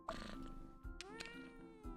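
Cat meowing in the video game Cats Organized Neatly: a short series of quiet, drawn-out meows with rising and falling pitch, close and clear with no speech over them.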